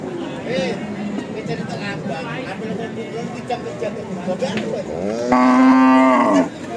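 A cow lets out one long, deep moo near the end, following a stretch of people talking over background noise at a livestock market.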